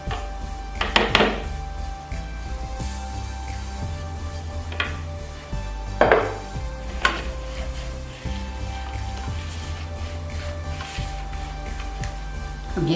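Beef biryani ingredients stirred in a pot for Hyderabadi dum biryani: a spoon scrapes and clanks against the metal pot in repeated bursts over a low sizzle, with no voices.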